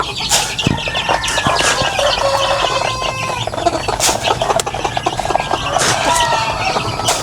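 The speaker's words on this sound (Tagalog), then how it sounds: "ito naman po yung ating basilan po na inahin na may siyam na sisiyo" A Basilan hen clucks while her nine chicks peep and cheep busily around her, close and continuous with occasional sharper squeaks.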